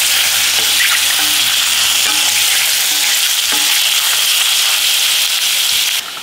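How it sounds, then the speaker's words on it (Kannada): Mushrooms and corn fry loudly in butter in a pan, giving a dense, constant sizzle with faint stirring scrapes underneath, close up, with no voices. "ಜಸ್ಟ್ 1-2 ನಿಮಿಷ ಈ ಥರ ಮಿಕ್ಸ್ ಮಾಡ್ತಾ ಇದನ್ನು ಬೇಯಿಸ್ಕೋಬೇಕು."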